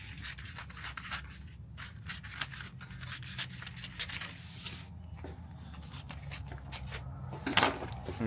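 Scissors snip and slide through a sheet of Heat n Bond adhesive in a series of close, quiet, uneven cuts. Rustling from handling the sheet comes between the cuts.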